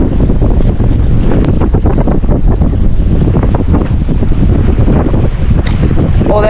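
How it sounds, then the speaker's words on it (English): Strong, constant wind buffeting the microphone on a tiny rocky island at sea, a loud continuous roar with gusty rumble and no breaks. "Oh my gosh, it is ridiculously windy."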